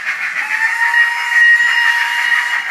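A model steam locomotive's sound-decoder whistle as the train nears the station, a loud sustained hissing tone holding steady for nearly three seconds.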